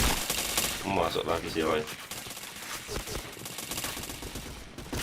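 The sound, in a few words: gunfire in a video game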